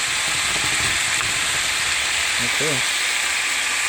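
Cabbage stir-frying in a pan at home makes a steady, close sizzle and hiss throughout, with a brief spoken word partway through.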